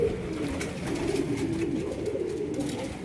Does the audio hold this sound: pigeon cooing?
yes